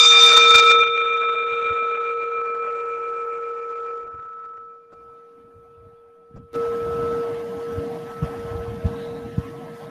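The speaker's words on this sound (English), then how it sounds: "I'm going to ring the bell. You will listen to the bell as long as it rings" A mindfulness-session bell is struck once and rings out alone with a clear, sustained tone that slowly fades over several seconds before soft background noise takes over.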